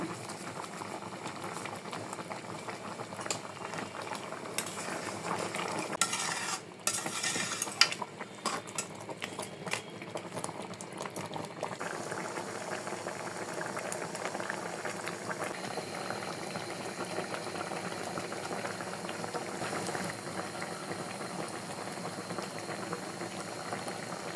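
Chicken korma made with country chicken simmers with a little water in a pot, giving a steady bubbling boil with a few brief clinks of a spoon early on.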